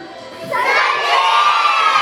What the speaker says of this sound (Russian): давайте точно так же, только мы крикнем